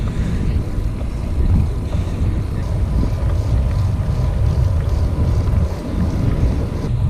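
Wind roaring across a microphone on a spring bike ride, a steady loud low-frequency rumble and buffeting that fills the whole stretch without letup.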